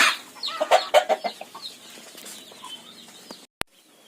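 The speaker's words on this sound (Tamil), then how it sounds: "ஆனால் கோழிகள் சீக்கும் போது பார்த்தீங்கன்னா ரொம்ப ஆழமாகவே சீப்பாங்க" Chickens in a poultry farm cluck in a quick series of close, bright calls during the first two seconds, then fall quieter over low farmyard rustle, ending with one sharp click.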